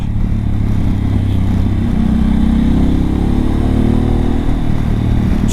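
Harley-Davidson Pan America motorcycle engine droning steadily and loud throughout while riding, a low rumble with a gradual rise in revs partway through, with no talk.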